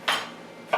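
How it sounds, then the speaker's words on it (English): A knife chopping freshly roasted pecans on a board, two distinct cutting knocks spaced well apart, close and fairly quiet with no talk. "I'm just chopping up a little bit of freshly roasted pecans I just roasted"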